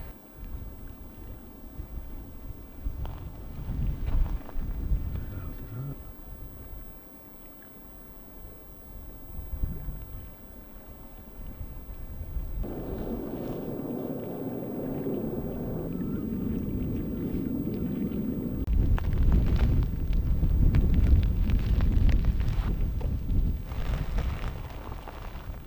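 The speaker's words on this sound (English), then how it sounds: "Quite windy though." Gusty wind on a beach in a small cove blows against the microphone in rising and falling waves of low rumble, growing stronger and rougher toward the end.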